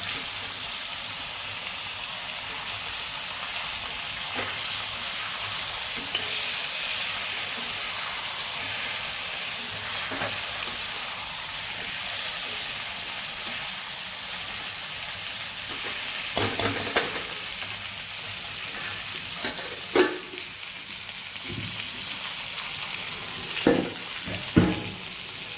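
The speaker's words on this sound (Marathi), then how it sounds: "वांगी चांगली परतून घेऊया आणि वाफेवर शिजवून घेऊया." Eggplants stir-frying in a covered pan for a traditional stuffed Maharashtrian dish, a loud, steady hiss of sizzling and steam throughout, with a few sharp utensil scrapes and knocks near the end and no voices.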